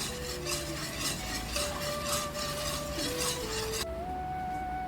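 A spoon stirs thick palm jaggery (karuppatti) halwa in a pan over a low flame, scraping in steady rhythmic strokes with a soft sizzle, up close and without talk.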